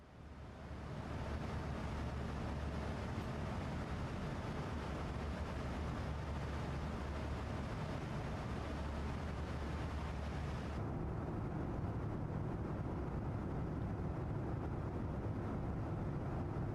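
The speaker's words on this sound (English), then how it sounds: "So Sean, there is a little bit of engine sound." A Boeing 737-800 engine in a flight simulator game drones as a steady, broadband roar that holds the same level the whole time, with the top end dulling partway through.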